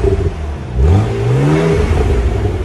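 A 2014 BMW Z4 with a 3.0-liter inline-six and stock exhaust revs up sharply, its engine note rising and falling in one smooth, moderately loud sweep, then settling into a steady mid-range drone.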